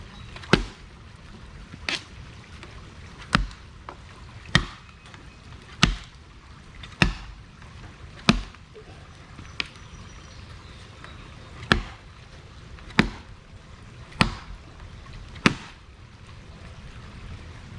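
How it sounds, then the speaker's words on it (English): A Kriegsmesser sword strikes a storm-fallen tree limb beside a creek, giving about fourteen sharp, loud chopping impacts at a steady rhythm of roughly one every second and a half, with faint outdoor background between blows. "taking the Kriegsmesser, standing by my creek on a 100-degree day, striking a limb that fell during the storm last night"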